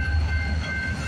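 A CN freight train hauled by CN locomotives rolls past at night near a Toronto-area line, a continuous loud rumble with a steady high tonal whine riding over it.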